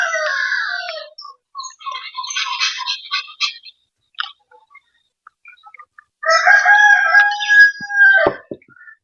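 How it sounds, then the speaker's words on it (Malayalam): Roosters crow loudly and repeatedly nearby, with several long cock-a-doodle-doo calls and clucks; one crow trails off near the end, with short pauses between calls and no talk. "കോഴികളൊന്ന് കാര്യമായിട്ട് കൂവുണ്ട്."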